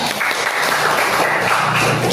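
A classroom audience applauds after a micro teaching presentation on Islamic civil law in Indonesia, a steady, dense clatter of many hands held at even loudness for the whole stretch, with no clear voices over it.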